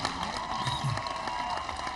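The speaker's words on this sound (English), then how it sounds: "A round of applause, everybody." A crowd applauds and cheers at a gathering honoring President Barack Obama, a dense, steady wash of clapping and voices that fills the whole stretch at an even level.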